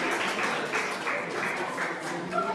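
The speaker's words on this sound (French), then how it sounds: "on applaudit très fort" Applause from an audience at a radio contest final, a continuous mid-level wash of clapping sustained through the whole stretch, with faint voices underneath.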